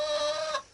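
Chickens and roosters in a small winter henhouse give a brief, close clucking squawk that cuts off after a moment, with no voices.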